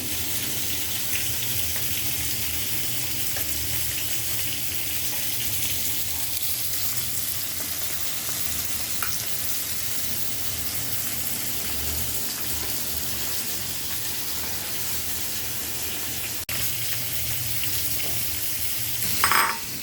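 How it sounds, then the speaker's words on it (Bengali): Bitter gourd (karela) frying in a pan gives a continuous, even sizzle that stays close and constant for the whole stretch, with no talking. "অফ ক্যামেরায় করলা ভাজিটা বসিয়ে দিয়েছিলাম"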